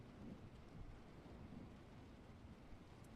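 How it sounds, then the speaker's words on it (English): A thunderstorm ambience plays as a faint, steady wash of rain-like hiss and low rumble, with no distinct thunderclap and no talking. "we're gonna set this to a lovely thunderstorm, okay? You should be able to hear that wonderful ambient audio that's coming through."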